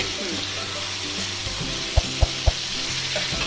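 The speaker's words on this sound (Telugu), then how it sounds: "నేను మూత పెట్టకుండా 5 మినిట్స్ అండి ఆయిల్లో ఫ్రై చేస్తున్నాను." Marinated chicken fries in oil in an uncovered pan with a constant close sizzle, punctuated by three quick knocks in a row partway through.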